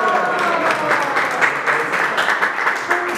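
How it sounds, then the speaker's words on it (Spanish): A crowd applauds after a youth mariachi performance at a birthday celebration, dense steady clapping held at a close, loud level for several seconds, with a few voices mixed in. "El fuerte aplauso, bien bonito, eso sí."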